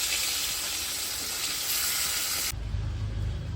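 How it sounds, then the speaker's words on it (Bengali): Fish fries in mustard oil in a pan with a bright, continuous close hiss that gives way to a lower, duller rumble near the end. "বাকি মাছগুলো এভাবে ভেজে নিচ্ছি।"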